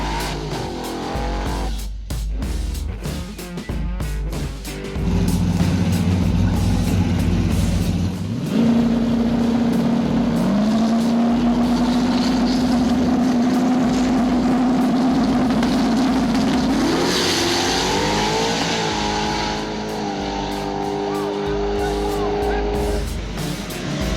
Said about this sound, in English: Second round, we've got Peachy in the S10 Blazer versus Lieutenant Dan in the green Mustang